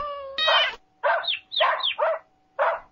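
A cat meows close up in several drawn-out, wavering cries, some of them overlapping, with short pauses between them. A faint steady tone hums underneath, and nobody talks.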